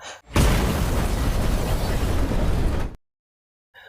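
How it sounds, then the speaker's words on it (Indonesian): A car bomb goes off in a loud, roaring blast, a heavy sustained rumble that suddenly cuts to silence. "mendengar sebuah mobil meledak"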